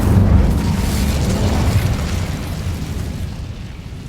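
Incendio fire spell blast in Hogwarts Legacy, a loud booming burst of flame that hits at once and then rumbles and roars on steadily, fading slightly over a few seconds with no voices.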